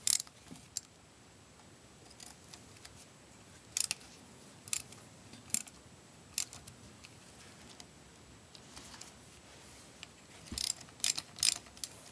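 A ratchet fitted with a borrowed 1/4 inch 12-point socket loosens bolts on a motorcycle, giving sparse, faint clicking bursts spread through an otherwise quiet stretch with no talk.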